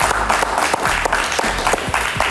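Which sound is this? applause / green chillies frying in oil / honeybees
applause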